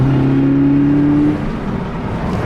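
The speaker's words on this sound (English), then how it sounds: "here we are, driving the car" A Subaru BRZ with a reworked clutch fork drives along, its engine droning steadily and then dropping in pitch as the revs fall, heard from inside the cabin with no talking.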